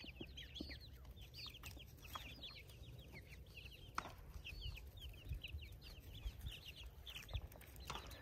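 Chickens cluck in a farmyard while an Australian Shepherd herds them, with clucks and calls repeating across the whole stretch over steady outdoor background noise.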